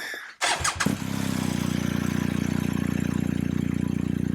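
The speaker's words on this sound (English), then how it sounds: "Just switch your engine on for me" A 2021 BMW 1250 GS Adventure TE motorcycle engine cranks briefly and catches, then settles into a steady, close, even idle with a fast regular pulse and no talking.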